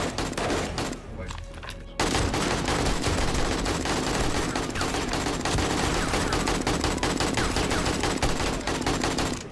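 Rapid automatic gunfire rattles continuously during a horde night in the video game 7 Days to Die, loud and dense after a short quieter lead-in, with voices faintly under it.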